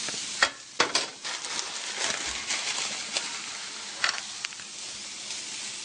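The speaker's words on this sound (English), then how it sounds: "Mix it up a little bit because you want to make sure that the vegetables don't start burning to the bottom of the pan." Vegetables and fideo noodles fry in oil in a large skillet, giving a steady close hiss as a utensil stirs and scrapes the pan with a few sharp clacks; no one speaks.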